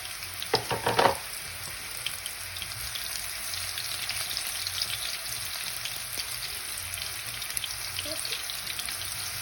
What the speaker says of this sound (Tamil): ஃபுல்லாக பொரிச்செடுக்க போகிறேன்